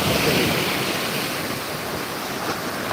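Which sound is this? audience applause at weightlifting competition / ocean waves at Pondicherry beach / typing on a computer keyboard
ocean waves at Pondicherry beach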